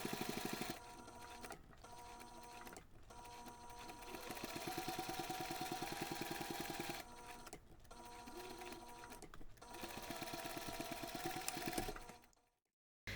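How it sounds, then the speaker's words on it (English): A sewing machine runs in fast bursts as it topstitches the finished seam of a fabric cardholder wallet, its needle chattering rhythmically with brief pauses between runs before cutting off at the end. "Then we're going to take this to the machine and top stitch along that"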